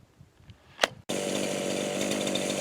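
An ECHO CS 501P chainsaw cutting tree branches: after a sharp knock, the engine roars to a loud, steady high-revving buzz close by, held continuously as it bites into the wood.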